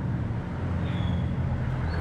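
Vehicles and tricycles pass along a street, a steady wash of traffic rumble heard while walking, with no clear voices.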